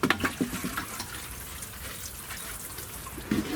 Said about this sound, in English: I'm just going to give them another little quick water